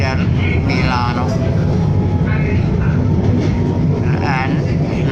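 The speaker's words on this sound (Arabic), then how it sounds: "الآن احنا غاديين برقم 15 في ترام واي نمبر 15" Milan's number 15 tram rolls along with a continuous low rumble and rattle, fairly loud and steady throughout, while a person talks over it.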